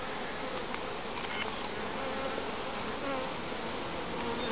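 Honey bee swarm buzzing densely and continuously close up, a loud unbroken drone of many wings filling the scene.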